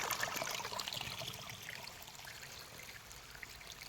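Floodwater running out from under a house crawl space, a continuous trickling and gurgling stream, faint and steady, softening slightly over time with no talk.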